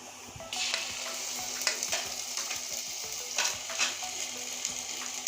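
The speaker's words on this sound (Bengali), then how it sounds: "আমি পেঁয়াজের সঙ্গে আরও কিছুক্ষণ কষিয়ে নেব" Onion and garlic paste frying in a pan for a rohu fish head curry with potato and bitter gourd: a steady sizzle with repeated stirring scrapes and clicks of a spoon against the pan, close and alone.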